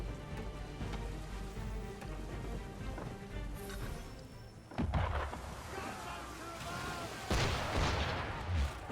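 Cannon and gunfire from an enemy ship in Assassin's Creed III: two heavy booming blasts, the second followed by a sustained crackling roar, over steady noise like rain and wind and faint background voices.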